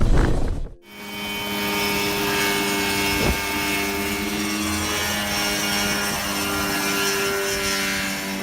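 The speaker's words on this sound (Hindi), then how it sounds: "ये इंसान वाकई एक होममेड हेलीकॉप्टर से सनसेट का मजा लेता है।" A homemade Mosquito helicopter with a Rotax 503 engine and air cooling flies at sunset, its engine and rotor roaring steadily and loudly after a brief gap at the start.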